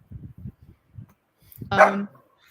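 Twinkie, a pet dog, gives a short, fairly close bark with a whiny edge at a passerby, after several soft low thuds or murmurs.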